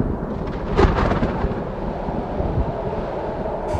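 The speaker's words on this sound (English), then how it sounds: "The thunder's getting worse!" Thunder rumbling amid strong gusting wind buffeting the microphone, a deep roar with a swell near the start, loud and close, no voices.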